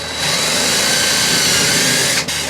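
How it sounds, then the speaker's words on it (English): Loud, steady whine of a power drill boring a pilot hole through a van body from inside to outside, running continuously, with a brief dip near the end as the bit pushes through. "I can drill my pilot hole from the inside to the outside of the vehicle."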